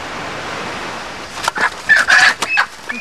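Chickens cluck and squawk in short irregular bursts from inside a box being carried uphill through rain to a new camp, preceded by a stretch of steady rain-like hiss.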